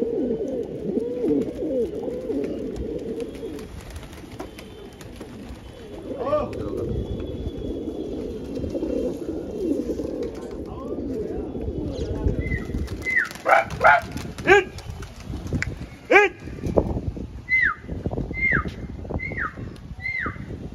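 Pigeons coo in low murmuring rounds from a large rooftop flock belonging to a local man in Rohtak, with sharper bird calls and a dog barking, under intermittent talk.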